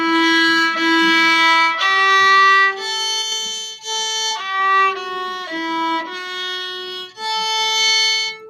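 A bowed string instrument plays two measures of a beginner method-book exercise, a string of sustained, separate notes with a few slurred pairs, clear and close with no talking.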